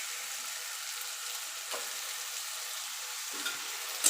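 Chicken fried and stirred with spices in a pan over low gas, a soft, steady sizzle with a couple of faint spoon scrapes and no talk.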